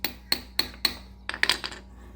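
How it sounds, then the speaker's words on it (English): A hammer strikes a metal bit into a hole in a broken bolt four times in an even rhythm, followed by a quicker flurry of lighter taps, close and fairly quiet. "pound it down into that hole with a hammer, and then tap this into place"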